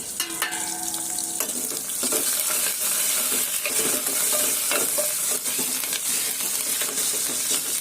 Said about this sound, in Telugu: వెల్లుల్లిపాయ, జీలకర్ర, ఆవాలు, ఎండుమిర్చి అన్నీ వేగిపోయింది